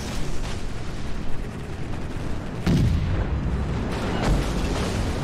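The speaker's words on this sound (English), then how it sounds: "Now, I did manage to hit this guy with torpedoes." Torpedoes striking and exploding on a ship in a naval battle video game, heard as a dense, loud roar of blasts with a heavy boom partway through, thick and sustained throughout.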